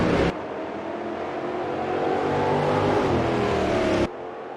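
A pack of Brazilian StockCar Series race cars accelerating off the start of a feature race at the Velo Citta circuit, a loud sustained engine roar with rising pitch as the field pulls away.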